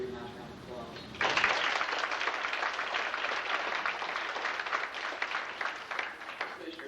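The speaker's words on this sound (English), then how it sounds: "I'd like for y'all to give him a nice round of applause." An FFA banquet crowd in Casey County breaks into applause for the man who fixed the sign, moderately loud sustained clapping starting about a second in after a brief voice.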